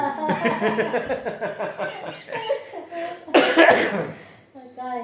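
Someone coughs repeatedly in short bursts mixed with laughter and talk, ending in a louder, harsher cough.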